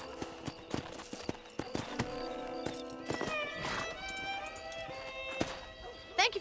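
Horse hooves clip-clopping in the video game Red Dead Redemption, a series of sharp hoof knocks at walking pace, with a horse whinnying and background music and talk around them.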